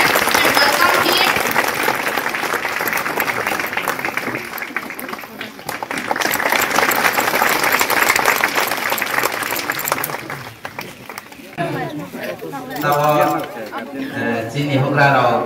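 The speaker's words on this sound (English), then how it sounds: "Let us clap our hands and welcome him." An audience applauds at a school opening ceremony to welcome a guest, with dense sustained clapping for about ten seconds before it fades and voices take over.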